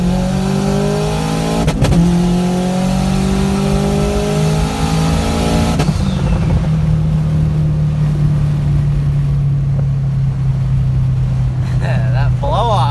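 A 400hp Subaru STI at 22.5 pounds of boost, heard from inside on a ride-along: loud turbo engine accelerating with rising tones, a sharp cut as the throttle lifts and a burst of turbo blow-off, then lower steady engine drone.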